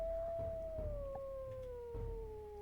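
In the WolfQuest video game, a wolf lets out one long, fairly quiet howl that slowly glides downward in pitch, with a second voice faintly joining partway through, over a soft low rumble and periodic thumps.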